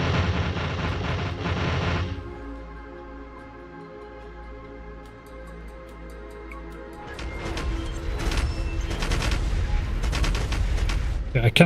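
Artillery turrets in Factorio fire in a dense run of heavy booms and rapid shots, loud and close, building after a quieter stretch with steady tonal game music underneath.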